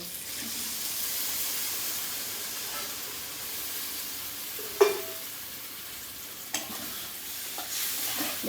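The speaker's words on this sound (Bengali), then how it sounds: "এবার আমি দুটো চেরা কাঁচা লঙ্কা দিয়ে দেবো হাত দিয়ে চটকে নেওয়া পুঁই মুচড়িটা দিয়ে দেবো" Slit green chillies and hand-crushed malabar spinach stalks added to a pan of fried prawns, a steady soft sizzle and hiss with a few sharp clinks and stirring knocks.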